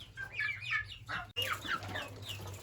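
Young chicks in a backyard coop give soft, rapid clucks and peeping chirps, close and fairly quiet, in short overlapping bursts.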